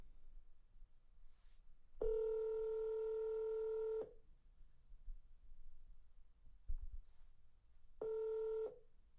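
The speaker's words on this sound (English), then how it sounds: "So it's going to dial." Auto-dialer in XLeads placing an outbound call: a loud, steady tonal telephone dialing signal holds for about two seconds, pauses amid faint background noise, then sounds again more briefly.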